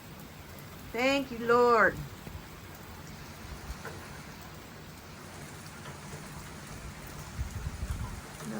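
Rain falling at night in Buckeye, a steady soft hiss of drops on surfaces that continues throughout, with a brief spoken phrase near the start.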